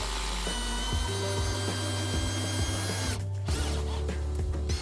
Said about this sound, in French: Vissez directement les contre-marches aux crémaillères pour assurer leur réglage.